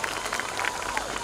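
A school annual day audience keeps clapping, a thick continuous patter of many hands that stays level through the moment.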